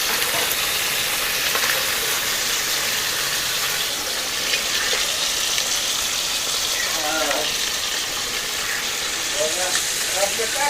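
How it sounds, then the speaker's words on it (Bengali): Small mora fish frying in a pan, a steady broadband sizzle running loud and continuous throughout, with faint clinks and stirring touches now and then. "ছোট মাছগুলো ভাজে নিচ্ছি।"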